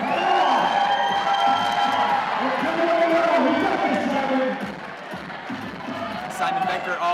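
A crowd at a climbing competition final cheers and shouts steadily, loud and close, with the roar easing slightly toward the end while voices carry over it.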